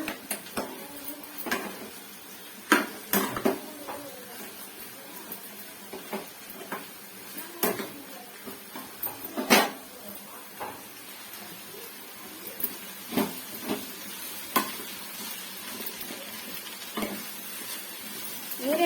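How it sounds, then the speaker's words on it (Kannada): Ridge gourd stirred in a hot pan, with irregular spatula scrapes and clinks over a soft sizzle, spaced throughout and moderately close. "ಇವಾಗ ನಾನು ಹೀರೆಕಾಯಿ ಹಾಕೋತಾ ಇದ್ದೀನಿ ಹೀರೆಕಾಯಿ ಚೆನ್ನಾಗಿ ಮಿಶ್ರಣ ಮಾಡ್ಕೊಳ್ಳೋಣ"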